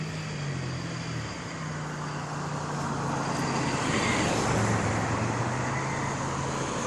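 Cars pass along a street at night, a steady wash of traffic noise with the rising and falling hum of engines at moderate distance, and no voices.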